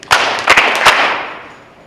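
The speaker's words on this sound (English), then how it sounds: "one Bobcat clap, which is 3 claps in a row" Audience at a high school National Honor Society induction ceremony giving a Bobcat clap, three sharp claps in a row in a loud, reverberant hall, each burst ringing out and fading into a long decay.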